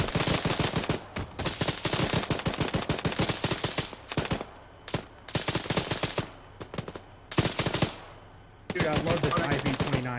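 Rapid automatic gunfire from an ArmA 3 firefight in long, loud bursts, the rattling strings of shots broken by short pauses and dense with overlapping rounds.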